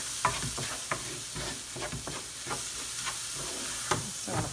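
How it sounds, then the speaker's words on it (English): Rice frying in a pan during paella preparation, giving a steady close sizzle with repeated sharp scrapes and taps from stirring spread across the clip. "I'm going to fry the rice for several minutes before I begin adding the stock"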